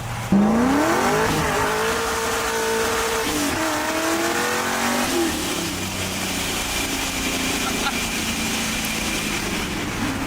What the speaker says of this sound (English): I'm just driving my beautiful IROC Camaro with the T-tops off